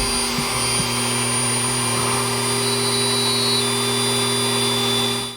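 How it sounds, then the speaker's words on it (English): A power drill steadily bores halfway into a rock, a continuous loud whirring drone with steady motor hum lasting throughout, no talking. "So the first thing I do is drill halfway through the rock."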